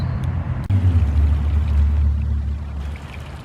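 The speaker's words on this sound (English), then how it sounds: "All this water is running down into the pond." Steady flowing water pours and rushes down into a pond at Iroquois Park, with a low rumbling tone, continuous and close, with a brief click early on.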